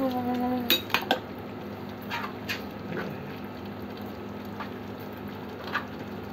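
Ampalaya (bitter gourd) cooking in a pot with a few metallic clinks of utensil against cookware early on, then soft sizzle and stirring noises, moderately close, no talk.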